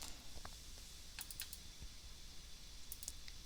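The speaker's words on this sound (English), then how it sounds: "I'm just clicking on the column name or table name to enter it in my SQL statement" A computer mouse is clicked while entering column and table names into an SQL statement: a few faint, sharp clicks spaced irregularly over a quiet room hum, with no speech.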